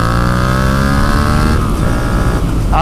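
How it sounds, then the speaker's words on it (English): A Yamaha MT-07 motorcycle fitted with an Akrapovic full carbon exhaust revs steadily and loudly up close, its engine note holding high with a sport-bike rasp throughout, no voices. "It kind of has a Harley sound when it's on idle, but you know, once you get the revs up, it actually sounds like a proper sport bike."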